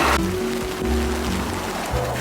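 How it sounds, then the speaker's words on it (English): Heavy rain pours down in a dense, loud, continuous hiss close by, steady throughout with a low rumble underneath and no talking. "Bro, it's raining hard as shit."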